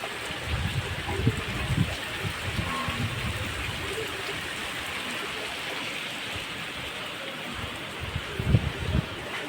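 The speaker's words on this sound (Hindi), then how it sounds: "देखो कितना बारिश हो रही है।" Heavy rain falls steadily outside a small house, a dense even hiss of water with occasional heavier drips and splashes close by.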